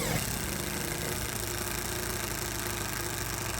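A cordless Mollar CIDR12150 impact driver strains to sink a 2-inch screw, its overheating motor giving a loud, dense, continuous whirring hammer that runs unbroken at close range.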